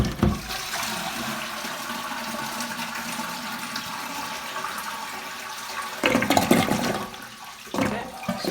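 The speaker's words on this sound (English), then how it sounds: "first thing I'm going to do is try to flush it to get rid of most of the water." A toilet flushes loudly with a rushing gurgle of water draining down, followed by a brief surge and trickling near the end, close and alone.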